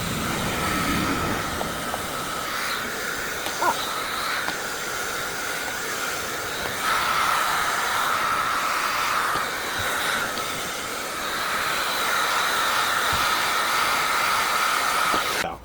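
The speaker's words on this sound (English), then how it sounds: "Got my little handy dandy blow dryer." A blow dryer runs steadily up close, heating a sticker on a motorcycle number plate. It makes a continuous airy hiss and whine that shifts slightly in pitch as it is moved about, with no talking over it.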